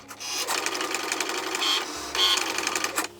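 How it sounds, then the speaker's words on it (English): A Cricut Mini machine cuts miniature paper shopping bags with its knife blade, a steady close mechanical whirring and clicking that runs throughout, with brief high whines as the carriage moves and shifts partway through. "Then the Cricut will cut out your bags."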